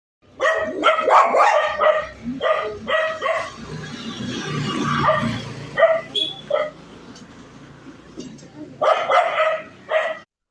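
Tied-up dogs bark in rapid bursts, several yips in quick succession, pause, then bark again; fairly close and loud, with some whimpering between.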